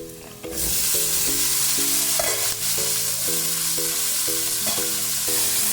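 Chopped bilimbi drops into hot oil and crackles loudly with a dense, steady sizzle, joined by a faint repeating tonal hum in the background, close and without any voices.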